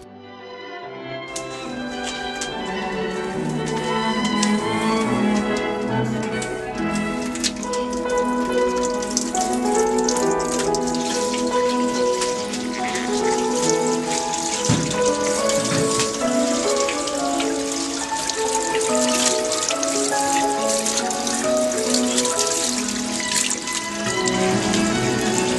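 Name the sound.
washing something under running tap water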